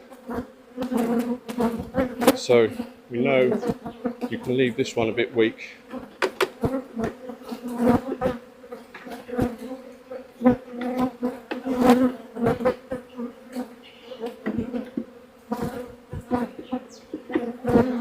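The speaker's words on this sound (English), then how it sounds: "the flying bees are going to come back here" A dense, steady buzz of many bees swarming close by during a hive inspection with queen cells, with occasional sharp knocks and handling noises, and a person speaking briefly over it.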